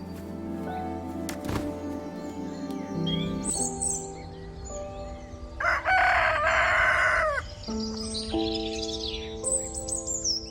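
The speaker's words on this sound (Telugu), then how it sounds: "ప్రతిరోజులాగానే ఆ రోజు కూడా కోడికూతతో మా ఊరు నిద్రలేచింది." A rooster crows loudly and close by in a village at dawn, one long drawn-out call, with smaller birds chirping in the background.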